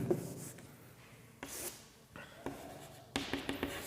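Chalk or marker scratching on a board while a physics problem is worked out, several short strokes and taps spread out with quiet gaps between them.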